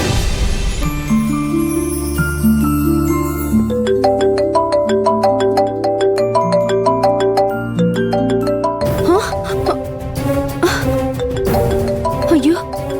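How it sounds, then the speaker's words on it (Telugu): A phone rings with a melodic electronic ringtone, repeating tinkling notes that change pattern partway through, playing loud and close over background music. "బాస్ ఫోన్ చేస్తున్నారు"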